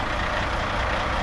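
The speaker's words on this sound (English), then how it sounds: "He's got another truck, and now the home hardware delivery truck just showed up." A hardware store delivery truck pulls into a driveway with a steady, loud engine rumble and broad road noise, with no talking.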